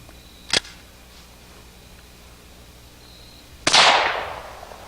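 A 22 Magnum bolt-action rifle firing a CCI cartridge outdoors: one sharp close crack with a long trailing echo, preceded by a shorter, softer click or snap.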